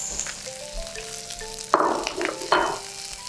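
Peppers and chilies hit a hot pan of onions and ginger for kung pao prawns, a quiet sizzle that flares into two sharp, close bursts of frying as the ingredients go in and are stirred.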